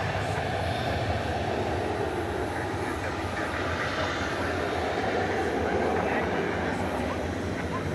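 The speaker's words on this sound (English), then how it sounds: "As we look at American Flight 2417 off to Mexico City, a 737-800." American Airlines Boeing 737-800 departing Dallas Fort Worth at night for Mexico City, heard as a continuous, dense engine rumble with a constant level throughout, faint background talk mixed in.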